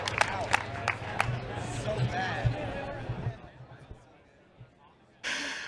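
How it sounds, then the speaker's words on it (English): Tournament crowd at a Super Smash Bros. Melee top-eight event cheering and clapping loudly, with sharp claps and whoops under a crowd roar that fades toward the end before a burst of noise. "How about some more cheers for some melee?"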